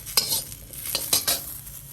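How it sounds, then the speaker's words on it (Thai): Large dried chilies are dry-roasted and stirred in a pan for a Thai fermented-fish chili paste, with a few scraping stirs and light crackles close by. "ใส่พริกใหญ่ลงคั่วนะคะ"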